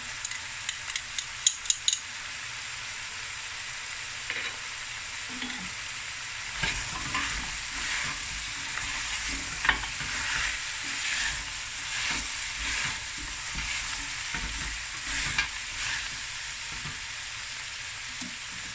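Garlic, ginger and chili fry for a creamy lamb knuckle curry, giving a steady sizzle with occasional stirring scrapes and a few sharp clinks near the start. There is no talk.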